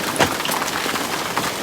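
Hail patters down in a brief, busy burst of sharp ticks and taps on surfaces during a storm, close and fairly loud with no voices.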